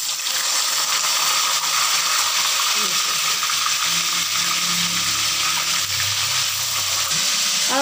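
Chicken pieces fry in hot salted oil in a karahi with a loud, steady, dense sizzle that holds throughout, joined by faint clinks and scraping.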